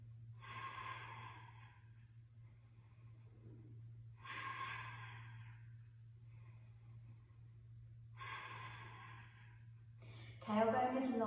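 Breath pushed out during the Pilates hundreds exercise on a mat, heard as three long, close, breathy exhales spaced about four seconds apart over a low steady hum, with a sharper burst of sound at the very end.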